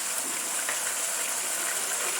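Pineapple juice from a tin poured into a pan, a steady soft hissing gush that flows evenly and quietly throughout without a break.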